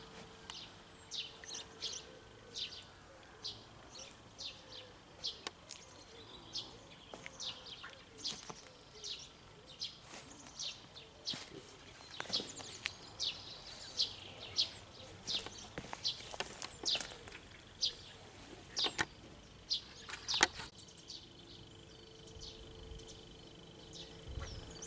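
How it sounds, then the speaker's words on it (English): Birds chirp and call outdoors in a dry spring garden, many short tweets scattered across the scene at moderate distance, with occasional clopping or tapping sounds mixed in and a low ambient background. "So the birds are very happy and almost noisy"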